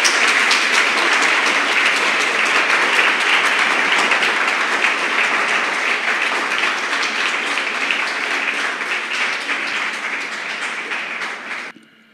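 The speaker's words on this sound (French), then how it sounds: "Je vous demande de l'applaudir," A crowd applauds a performer being called onto the stage at a youth event, a long and even wash of clapping that holds loud for about twelve seconds before cutting off abruptly.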